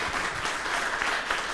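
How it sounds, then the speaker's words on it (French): Audience applause for Ibrahima Théo Lam at a youth event at the Plateau town hall, a dense, steady wash of clapping filling the short stretch without a break. "Monsieur Ibrahima Théo Lam, on l'applaudit à Bijeune."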